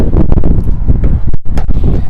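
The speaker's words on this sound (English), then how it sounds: "apologize in advance, it's a windy day" Heavy wind buffeting a microphone outdoors on a windy day beside a Ford F250/F350 pickup, a loud continuous roar with gusty surges and one brief lull.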